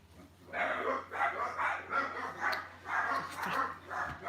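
A dog at a back fence barks repeatedly in a steady run of rough, moderately distant woofs, about two per second, with a low constant hum underneath.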